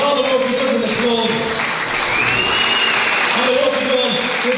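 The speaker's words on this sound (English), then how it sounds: "Robert deserves a second round of applause" A room at a boxing club applauds Robert, a steady broadband patter of clapping running throughout while voices carry over the top.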